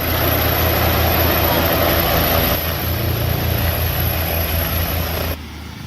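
A police helicopter arrives, its engine and rotor producing a loud, continuous roar with a thin high whine over a low thrum. The level eases slightly midway, then drops sharply near the end.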